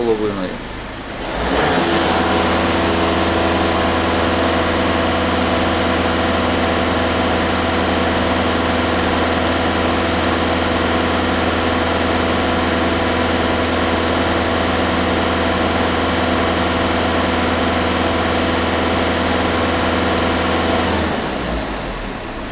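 A VW Caddy 2.0 TDI diesel engine is held at a steady 2500 rpm during diagnostics, a loud, close, even drone with a strong low hum that holds for about twenty seconds before dropping away.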